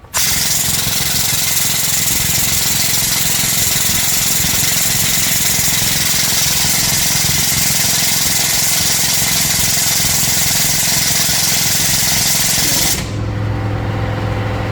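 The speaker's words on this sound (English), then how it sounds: "now we'll wait for the compressor to shut off" Air compressor running steadily and loudly, supplying a 50 ton SGS air hydraulic press, with a dense continuous mechanical drone that cuts off near the end, leaving a quieter low hum.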